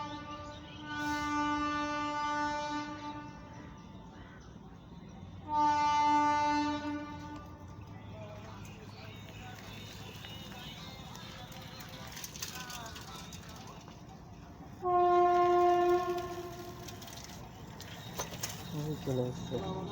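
A train horn sounds at a railway level crossing with the gate down near Bardhaman station, three loud tonal blasts spaced apart over a steady road and engine rumble.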